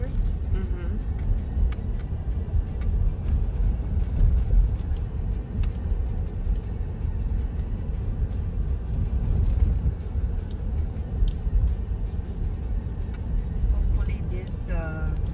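Steady, heavy rumble of traffic on busy Tecumseh Road during long-running construction, a continuous low drone of passing vehicles heard from close by.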